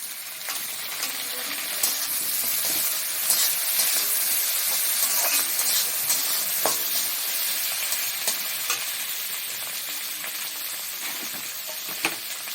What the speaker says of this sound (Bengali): এর মধ্যে আমি টমেটো কুচিগুলো দিয়ে দেবো।